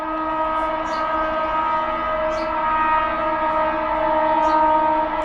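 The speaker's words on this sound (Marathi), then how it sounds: "रेल्वेचा काय आवाज द्यायला लागले" A loud, steady rumble and hum of a train running past, continuous throughout, with faint high squeals on top.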